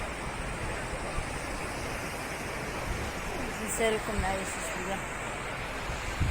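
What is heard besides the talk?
sea waves at the beach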